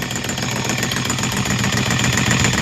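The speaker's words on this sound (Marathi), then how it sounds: "हे सिंगल फेजची मोटर होती, 3 फेज करून याच्यावर STP अटॅच केला." Single-phase motor converted to three-phase and fitted with a starter on a turmeric farm, running with a steady, dense mechanical hum and rattle, loud and close throughout with no talk.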